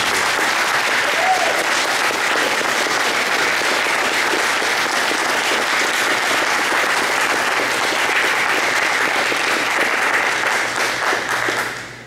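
An audience at a press conference on the dissolution of the 5th World Acadian Congress gives its president a long round of applause, a loud, dense and steady clapping that lasts about twelve seconds before cutting off.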